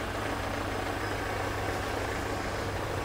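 A used diesel car sits idling at a second-hand car lot in Delhi, its engine giving a steady, even low rumble throughout at moderate volume, with no talking.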